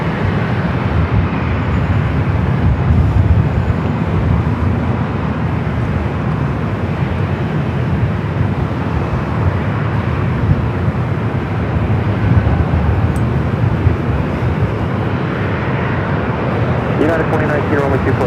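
A LOT Polish Airlines Dreamliner takes off at LAX, a loud, steady jet roar with broad rumble holding across the whole stretch, as if heard from a distance.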